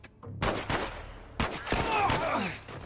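Gunshots in the video game The Last of Us: several sharp, loud reports in an irregular burst, with one closely followed by a cluster of rapid shots and debris-like rattling, and a voice faintly present underneath.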